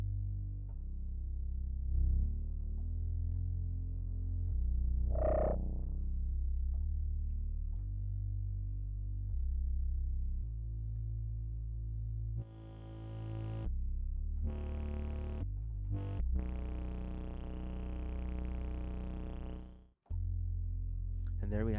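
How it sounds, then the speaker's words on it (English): A thick, distorted Moog-style synth bass built in Reaktor plays sustained notes and short riffs, loud and buzzy, with a brief cut near the end. "A Moog-Inspired bass synth built entirely in Reaktor in just a few minutes."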